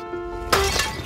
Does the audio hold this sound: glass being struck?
yes